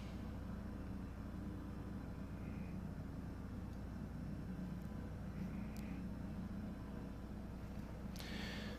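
A Piper Arrow III engine in Microsoft Flight Simulator as the aircraft taxis, a steady low droning hum with a constant buzzing tone, faint and even throughout, with a few soft clicks near the end and no talking.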